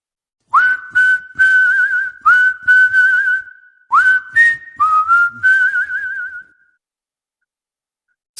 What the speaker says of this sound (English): And he whistled softly.